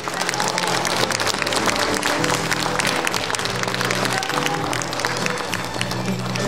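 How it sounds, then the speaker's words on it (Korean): Audience applause at the opening ceremony of the 2022 Nogeun-ri International Peace Forum after a plaque presentation, a full, continuous roar of many hands clapping in a hall, steady and loud throughout. "박수 부탁드리겠습니다"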